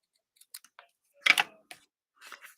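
Scissors snip through the ends of a ribbon bow in a few quick, close, crisp cuts, with a short flurry of sharper snips in the middle.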